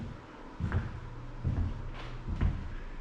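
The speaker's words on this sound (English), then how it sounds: "heavy door" A heavy, well-made door in a house is opened, giving three soft, muffled thuds and knocks, quiet and nearby in a still room.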